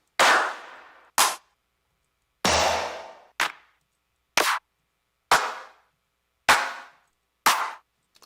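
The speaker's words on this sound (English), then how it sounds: "I'll just get a dry clap and kind of show you what that sounds like." Dry, unprocessed clap samples from a sample pack, played one at a time: about nine sharp, crisp hits spaced roughly a second apart, each with a short decay and silence between.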